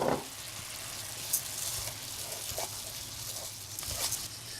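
Rice being stirred in a hot pan for a beer risotto, giving a steady sizzle with soft scraping and light crackles throughout, alone without talk.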